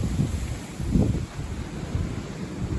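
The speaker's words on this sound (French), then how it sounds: "Grosse rafale." Strong south wind gusts, low and rumbling, pummel the microphone in uneven surges, loud and close, with no voices.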